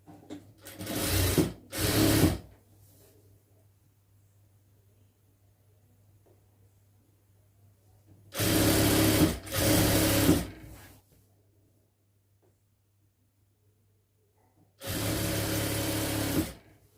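A sewing machine stitches the slit of a lined churidar, folded over a half inch twice, in three separate motor bursts: two short runs close together, then two longer whirring runs after a long pause.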